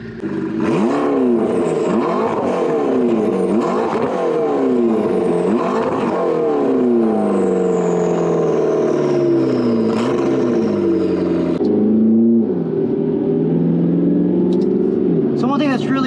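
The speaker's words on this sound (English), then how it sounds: "I'm gonna put this camera down so you guys can hear this exhaust" A tuned 2012 McLaren MP4-12C twin-turbo V8 exhaust revs repeatedly and loudly, pitch rising and falling in sweeping waves before settling into a steady deep drone.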